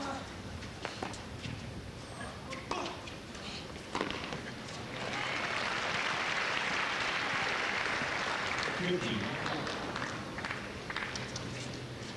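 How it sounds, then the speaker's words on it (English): Crowd applauding at a 1998 tennis match between Muster and Rusedski, a broad swell of clapping that rises midway and sustains for several seconds amid background bustle and some speech. "And the crowd in boisterous mood."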